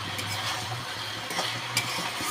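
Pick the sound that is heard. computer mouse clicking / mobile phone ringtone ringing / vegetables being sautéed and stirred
vegetables being sautéed and stirred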